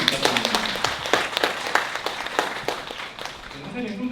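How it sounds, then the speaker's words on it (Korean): A meeting audience claps for the moderator at a neighbourhood residents' forum on street trees: a dense patter of many hands clapping fairly close, sustained over several seconds before thinning out at the end. "수고해주신 사회자 선생님 다시 한번 큰 박수 부탁드립니다."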